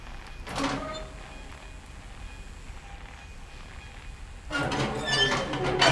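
Train rumbling through a tunnel in the video game What Remains of Edith Finch, a steady low roar with louder rushing bursts near the start and swelling again toward the end.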